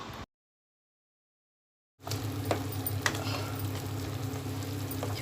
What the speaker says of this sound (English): Now in this method we are frying the masala and then cooking it.